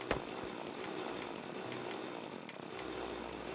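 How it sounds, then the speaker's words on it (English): Chainsaw cutting down trees in the video game Factorio, a steady buzzing whine that runs throughout, loud and close, with a short sharp hit at the start. "Get the chainsaw out. Quickly chop these trees down"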